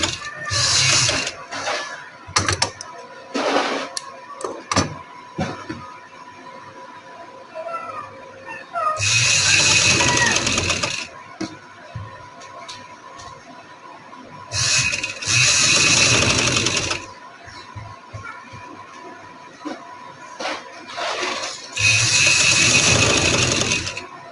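Sewing machine stitching a frill sleeve, running in three loud, sustained whirring bursts of a few seconds each, separated by quieter handling noises and brief mechanical clicks, close up.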